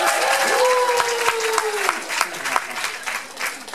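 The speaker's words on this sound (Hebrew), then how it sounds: "המכללה החרדית, מחיאות כפיים!" Applause from an audience at an alumni conference for a communication disorders program at a Hadassah academic college, dense steady clapping that fills the room, with a tone sliding underneath early on and gradually thinning toward the end.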